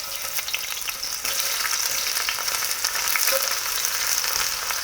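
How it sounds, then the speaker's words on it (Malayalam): Onions sizzle and crackle steadily in hot oil and ghee for a fish biryani, a dense continuous frying hiss that swells slightly as they hit the pan, with no talking. "കുറച്ച് ഉള്ളിട്ടാ."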